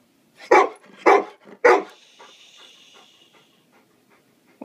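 A dog gives three sharp barks in quick succession, then pants softly and rhythmically, close by, with no talking.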